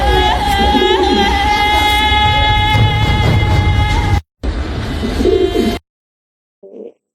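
Pigeons coo steadily over a layered, droning background with tonal hum, the sound cutting out briefly, returning, then ending abruptly with a short faint trailing noise.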